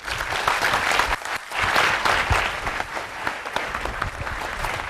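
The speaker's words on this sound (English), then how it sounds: "nice to hear that appreciative applause" A full hall applauds after a Foundation Day lecture, with sustained, lively clapping from many hands that carries on throughout at an even level.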